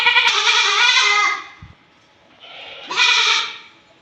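A goat bleats twice, loud and close, each cry long and wavering, with a short quiet pause between them.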